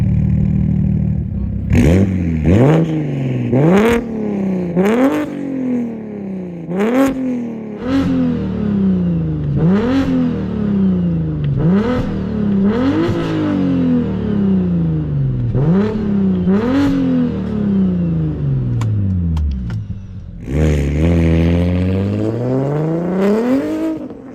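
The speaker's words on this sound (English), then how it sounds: "it's very raspy up top. It's straight pipe, guys. Fully straight pipe." Loud, raspy straight-piped exhaust on a big-turbo BMW 335is revving hard in a rapid series of about ten sharp blips, then a final long climbing rev.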